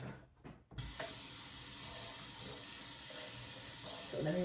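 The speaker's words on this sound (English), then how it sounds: "So let me rinse this out." A kitchen tap runs steadily while a juicer part is rinsed, a close, even rush of water that starts suddenly after a brief quiet moment with faint voice.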